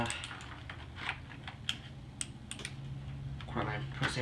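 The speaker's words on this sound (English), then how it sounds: "I'm pressing the keys" Keys on a new PC gaming keyboard are pressed in an irregular run of sharp clicks and clacks. The sound is close and moderately loud, with faint background hum and no talking.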